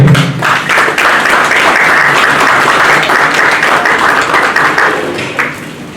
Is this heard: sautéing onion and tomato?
no